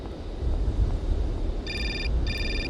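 Two bursts of an electronic phone ringtone sound in the Syberia adventure game, each a short harmonic trill, over steady low wind-like ambience with no talk.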